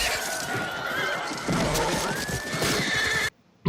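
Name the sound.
horses neighing during a cavalry charge into spears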